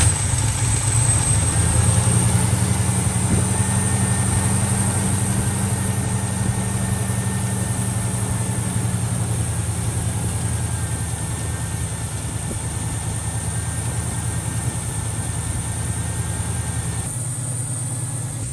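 A big block Trans Am engine with a Quadrajet carburetor idles on its own: a loud, steady, low rumbling drone that settles slightly lower partway through, with no talking.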